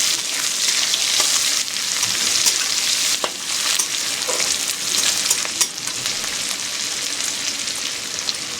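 Onion frying in hot oil, a steady dense sizzle and crackle throughout with occasional stirring scrapes, close and continuous with no talking.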